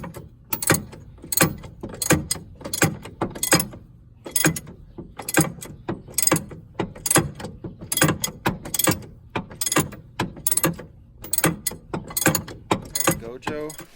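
Ratchet wrench clicking as it turns a socket while working under a bus, a close, repeated series of sharp ratcheting bursts in an irregular back-and-forth rhythm, with brief pauses between strokes.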